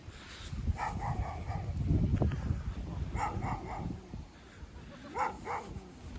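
Several dogs bark in repeated clusters at a distance at a riverside campsite in Greyton, over steady outdoor background noise and a low murmur.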